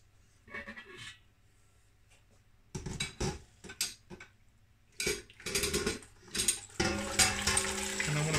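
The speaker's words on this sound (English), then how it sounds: "So I'm going to pull the bag out." A brewing grain bag lifted out of a pot of wort and set on metal poles, with clanks of metal and handling, then a steady splashing stream of liquid draining back into the pot.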